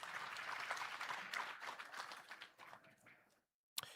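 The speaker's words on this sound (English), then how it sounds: "Please give a round of applause" Audience at an investment conference applauding, a faint, steady patter of clapping that thins out and stops near the end, followed by a single brief knock.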